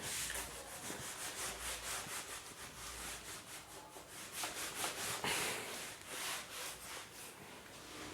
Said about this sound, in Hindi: ये चीज़ें मैं रब कर देता हूँ जिससे आपको आगे का टॉपिक समझा सकूँ